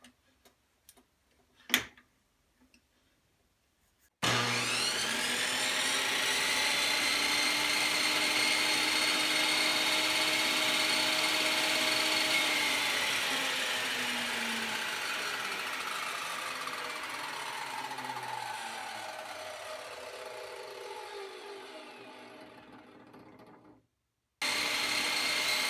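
New table saw ripping a single piece of wood in a home shop: a few faint ticks, then the motor spins up to a loud steady whine as the blade cuts, tapering slowly before cutting off abruptly.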